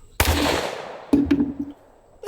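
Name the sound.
gunshot fired at a transformer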